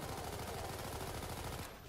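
Rapid, continuous automatic gunfire from Garry's Mod rattles in dense bursts as a creature is shot, loud and unbroken for nearly two seconds.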